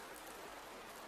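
Steady soft rain falls outside a bedroom, an even, gentle hiss of countless drops with no pauses or voices, quiet and continuous.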